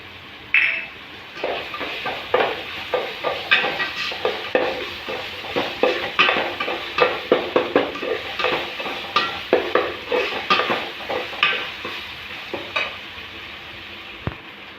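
Finely cut shallots and two green chillies frying for biryani, a steady sizzle under rhythmic scraping and clinking of a metal spoon against the pot, repeated stirring strokes roughly every half second, close and continuous.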